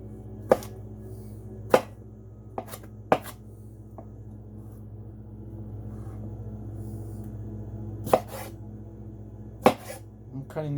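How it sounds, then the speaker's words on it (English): Knife cutting cherry tomatoes on a board, a handful of sharp separate chops with long gaps between them, close and crisp over a low steady room hum. "I'm cutting the tomatoes into"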